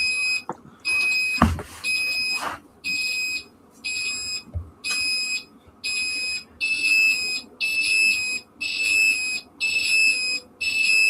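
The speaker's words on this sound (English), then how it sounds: "main screen, just click mute buzzer and it should mute the buzzer." A fire alarm control panel buzzer, on a Morley IAS or Apollo/Nittan system, sounds in repeated high electronic pulses about a second long with short gaps, loud and close, with a few knocks early on and no talk.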